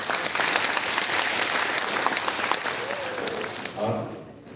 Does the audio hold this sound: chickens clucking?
no